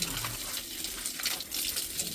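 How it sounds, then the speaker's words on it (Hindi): Water runs from an outdoor pipe or tap while feet are washed after rain. The steady splashing and gushing is loud and close, with no speech. "तो पहले हम लोग धुलते हैं पैर"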